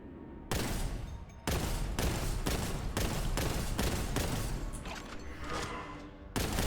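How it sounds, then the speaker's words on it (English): A boltgun fires in Warhammer 40K Boltgun, shown as loud, close, evenly spaced heavy shots repeating roughly every half second with brief gaps, alone without talk. "it shoots like a bolt gun"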